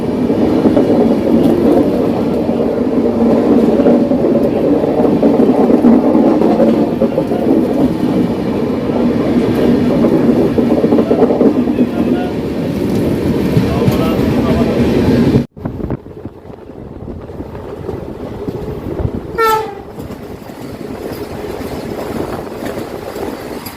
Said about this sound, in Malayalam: ഇവിടുന്ന് ഓവർടേക്ക് ഉണ്ട് കേട്ടോ. Kochuveli Gorakhpur Raptisagar super fast.